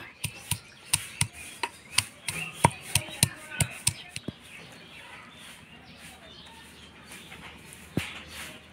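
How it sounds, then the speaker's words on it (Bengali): A whole garlic bulb crushed with repeated sharp pounding strikes, a quick rhythmic run of loud knocks that stops midway, leaving quiet kitchen ambience with birdsong outside and one last knock near the end. "এবার একটা গোটা রসুন আমি থেতো করে নিব।"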